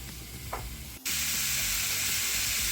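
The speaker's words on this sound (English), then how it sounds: "Frying up the sausage for the sausage gravy." Sausage frying in a pan for sausage gravy: a brief quiet sizzle, then a sudden loud, steady hiss as the meat hits the hot fat, continuing evenly to the end.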